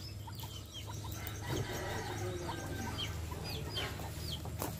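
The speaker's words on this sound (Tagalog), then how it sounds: "native chicken" Native chickens cluck repeatedly at close to moderate range in a busy rural yard, short clucks and calls scattered over a steady background hum with no talking.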